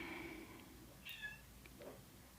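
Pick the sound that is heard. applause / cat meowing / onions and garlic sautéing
cat meowing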